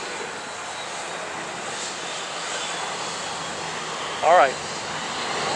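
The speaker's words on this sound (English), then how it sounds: "you can see a Southwest jet going over" A Southwest jet airliner passes over a runway at Atlanta's airport, a steady broadband roar that holds throughout, with a brief spoken voice partway through.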